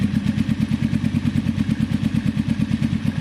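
A Kawasaki cafe racer motorcycle runs steadily with a rapid, even exhaust thump and mechanical clatter, loud and close, with no voices over it.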